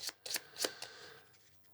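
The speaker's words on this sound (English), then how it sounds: "Let's give my deck a shuffle." A deck of cards for the board game Design Town being shuffled: several quick, crisp riffling bursts in a short irregular run, close and fairly quiet, trailing off into soft rustle.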